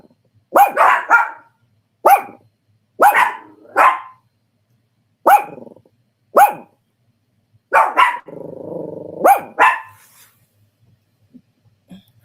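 A dog barks at someone at the door in a series of sharp, close barks in short bursts with gaps between them, one throaty growl in the middle, loud and alone without talk.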